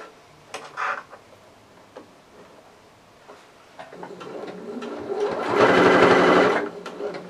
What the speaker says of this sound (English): So I'm sewing in a circle.